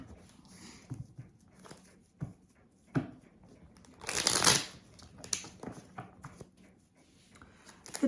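Tarot cards are shuffled by hand in short riffling bursts, with one louder, longer rustling shuffle in the middle and quieter card handling around it, nearby and with no talking.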